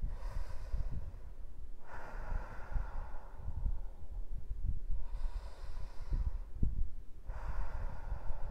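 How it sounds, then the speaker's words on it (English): A person breathes slowly in and out through the mouth during meditation, with soft airy inhales and exhales repeating in a steady cycle about every two and a half seconds, close and quiet. "it's very easy for me to actually feel the way the air feels when I breathe in and breathe out"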